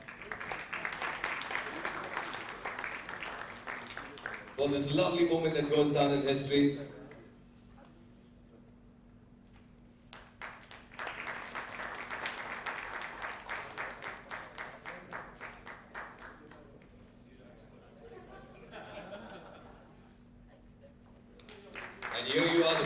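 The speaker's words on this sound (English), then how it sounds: "A huge round of applause" Audience applause at a villa launch event, bursting out loud for a couple of seconds midway and swelling again at the end, between stretches of an amplified speaker addressing the guests.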